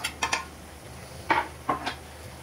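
Ginger is dropped straight into a frying pan while cooking moussaka, a few brief clinks and scrapes of utensils against the pan, close but sparse, separated by quiet gaps.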